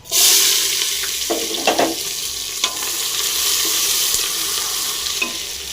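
Onions dropped into sesame oil with popped mustard seeds for a vegetable sambar tempering burst into a loud, close sizzle that settles into a steady frying hiss with occasional stirring scrapes.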